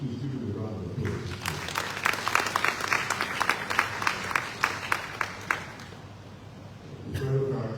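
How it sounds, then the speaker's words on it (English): Audience applause at a Lagos indigenous peoples' summit greets a Federal Character Commission commissioner: dense, fairly close clapping swells after a brief voice, sustains for several seconds with distinct individual claps, then fades as speech resumes. "Please give him a round of applause."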